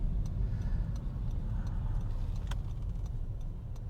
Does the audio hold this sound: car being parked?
yes